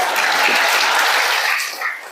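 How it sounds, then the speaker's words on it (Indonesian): Audience applause at a church sermon, a loud burst of many people clapping that swells briefly and then fades toward the close. "Kok tidak tepuk tangan?"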